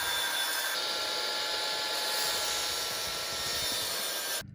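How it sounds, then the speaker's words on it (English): A miter saw cuts through wooden trim for a decorative wall shelf with a steady, loud, continuous whirring roar that holds level throughout, then cuts off abruptly at the very end. "I want to cut it on the miter saw"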